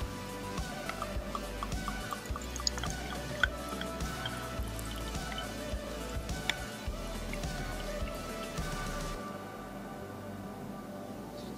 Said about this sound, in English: Pour it out.